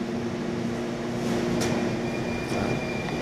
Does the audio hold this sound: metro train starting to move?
yes